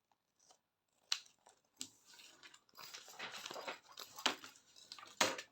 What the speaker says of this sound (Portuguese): E agora sim, vamos cortar o excedente.